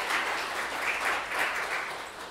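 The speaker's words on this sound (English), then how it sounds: "Give them a hand clap, everybody." Applause from the congregation at a funeral mass, a steady wash of many hands clapping together for a couple of seconds, moderately loud in the room with no talk over it.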